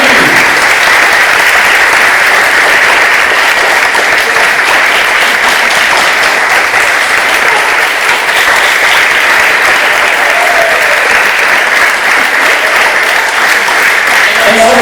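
An audience applauds comedians at a live gospel comedy show, sustained, dense and loud clapping that fills the room steadily from start to finish.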